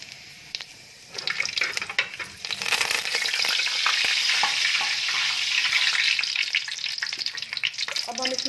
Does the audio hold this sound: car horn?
no